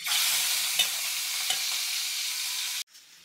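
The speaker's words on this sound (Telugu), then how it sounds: "నూనె కాగింది, పచ్చిరొయ్యలు వేసేసుకుందాం." Raw prawns hit hot oil for a tamarind-leaf prawn fry, giving a loud, steady sizzle with a couple of faint clicks. The sizzle stops abruptly near the end, leaving a quieter tail.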